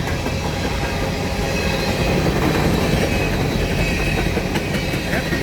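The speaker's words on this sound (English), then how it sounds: "Looks like an empty grain train." A CSX empty grain train rolling past close by, with loud continuous wheel rumble and clickety-clack on the rails, steady all through, a few squealing wheels near the end, and no talk.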